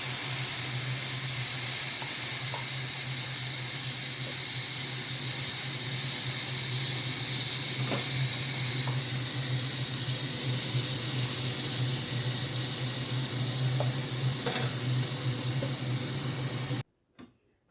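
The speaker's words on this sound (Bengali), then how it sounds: "এবারে সেদ্ধ করার জন্য বেশ কিছুটা এখানে জল আমি" Water added to vegetable oats and other vegetables in a pot brings on a steady, loud hiss and simmer, broken by a few faint bubbling pops, before the sound cuts off abruptly near the end.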